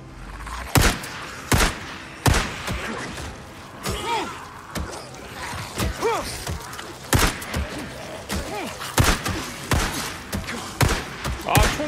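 Repeated gunfire from the game Days Gone, crashing in sharp irregular bursts over a dark mine setting, with thuds and game effects between shots and voices talking over it.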